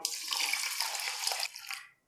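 Water pours steadily into a vessel of washed rice being soaked for athirasam, a close, rushing splash for nearly two seconds that tapers off at the end, with no talking.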